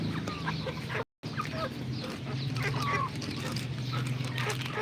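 Rhode Island Red chickens cluck and murmur in a steady farmyard chorus at feeding time, moderately near, over a constant low background hum.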